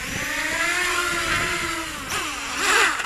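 Motors of a wooden FPV quadcopter whine steadily, then surge sharply in pitch and loudness as the throttle is blipped from low to high, twice near the end.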